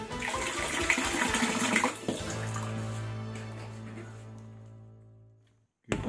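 Water gushes from a tap in a campsite toilet at Lojing Highlands, splashing steadily at first, then running as a smooth, even stream that fades out before a brief knock.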